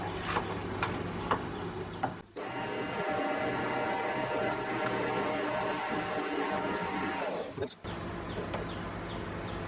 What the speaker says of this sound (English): Now I've got to turn 13mm of the end of it down for an M12 thread.